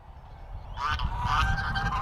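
Farm geese break into a burst of loud, overlapping honks after a quiet moment, fairly close and continuing to the end.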